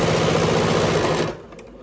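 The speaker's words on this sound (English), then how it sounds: "I'm going forward and then I'm back stitching and then I'm gonna continue forward." A sewing machine stitches a face mask seam with a 1/4 inch foot, running loud and steady, whirring close by, then stopping abruptly near the end.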